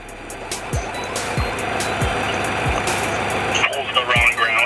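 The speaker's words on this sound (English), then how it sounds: "So apparently the Miata's working now." A Mazda Miata engine idles steadily in a garage, a continuous near rumble heard under people talking.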